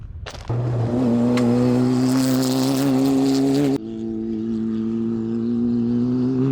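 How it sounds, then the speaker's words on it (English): An old Toyota truck engine drones loud and close in the remote Moroccan desert, rising sharply at the start, holding a steady growl, then easing to a lower hum. "you see the old Toyotas running water to the remote desert camps"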